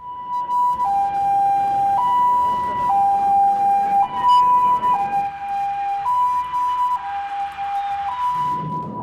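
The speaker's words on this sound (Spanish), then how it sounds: "El sonido de las sirenas anuncian el toque de queda" City sirens sound a curfew, a loud two-tone wail that alternates steadily between high and low pitches for the whole stretch while the streets stay otherwise quiet.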